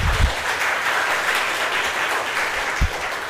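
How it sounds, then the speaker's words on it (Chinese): A church congregation at a Sunday service in Taiwan applauds new visitors, a full, even round of clapping lasting throughout with a couple of low thumps. "我们掌声欢迎"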